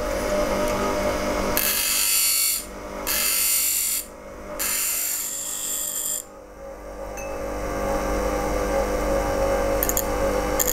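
A skew chisel is ground against a powered wheel to form a new bevel, giving a loud, continuous grinding hiss close by, broken by brief pauses as the steel is lifted and repositioned.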